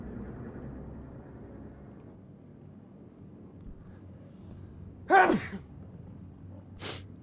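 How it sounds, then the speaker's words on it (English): A single sharp sneeze bursts out loudly over a low steady engine hum, followed a moment later by a brief fainter huff. "I do strive not to sneeze into the microphone."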